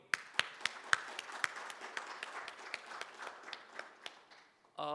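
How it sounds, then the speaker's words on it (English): Audience at a literary festival event in Nagpur giving a round of applause, heard as sparse, distinct claps from a smallish crowd in a hall, faint and thinning out before a voice begins at the very end. "a loud round of applause only for you"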